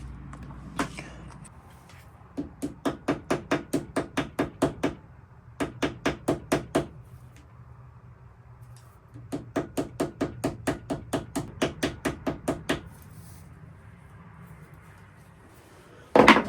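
Pins of a WWII knife handle are hammered out in quick bursts of sharp metallic taps, several rapid strikes per group with short pauses between, close and loud, then a final heavier knock.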